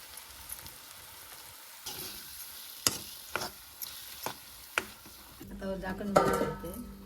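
Wild shevla vegetable curry stirred in a pan, sharp spoon-on-pan clinks and scrapes at intervals, then a louder burst of stirring and sizzling near the end.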